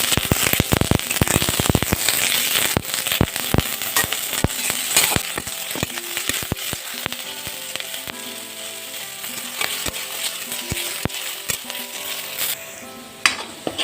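Green and dried chillies sizzle and spit in hot oil in a home kitchen, loud crackling pops scattered over a continuous frying hiss, with a few stirring clatters.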